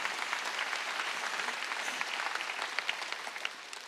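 A church congregation clapping during a Sunday worship service, a dense, steady burst of many hands applauding throughout, moderately distant and even, with no talk over it.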